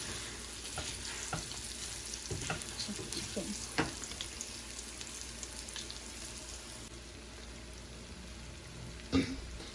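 Meat for Hyderabadi meat pickle is fried and stirred in spiced oil, giving a soft, steady sizzle with occasional scraping strokes and one sharper clunk near the end, heard up close at low volume.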